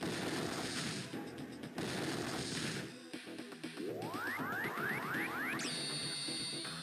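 Cannon fire in the Game Boy Advance strategy game Advance Wars 2: Black Hole Rising, with a loud burst of noisy booming shots followed by chirpy rising synthetic tones and a bright sustained chime, all electronic and without speech.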